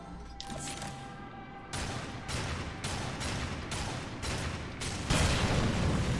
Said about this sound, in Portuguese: Capei uma porrada de tiro.